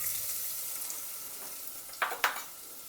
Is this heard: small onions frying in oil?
yes